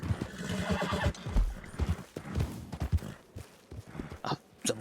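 Wild horse in Red Dead Redemption neighing and whinnying close by, with clip-clopping hooves walking through the whole stretch, loud and busy with several distinct snorts and thuds.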